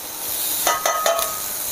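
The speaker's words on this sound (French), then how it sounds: "Là on met nos lardons, nos oignons, voilà, et on laisse suer une petite minute" Bacon lardons and onions sweating in a pan, a steady soft sizzle with a few quick stirring scrapes partway through, close and alone.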